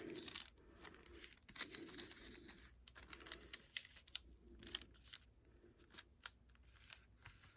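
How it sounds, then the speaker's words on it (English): Scissors snip the paper flaps off a journal template, making a quick series of faint, crisp cuts up close, with light rustling of the paper between the snips. "So we just cut off the little flaps on both sides"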